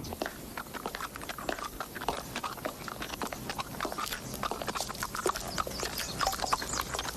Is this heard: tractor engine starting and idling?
no